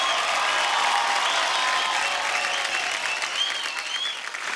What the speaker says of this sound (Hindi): तो आप सबकी जोरदार तालियों में स्वागत करना चाहूंगा